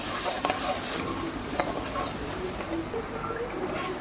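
Spices sizzle as they are sautéed in a pan for motor ghugni, a steady moderate frying hiss with faint stirring scrapes and light clinks of utensil on metal.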